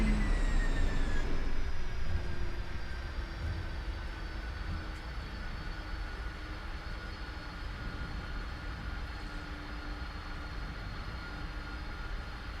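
A Boeing 747-400 in the Prepar3D flight simulator roars with reverse thrust on landing at night. The steady, loud engine rush winds slowly down from a louder start, with no talk.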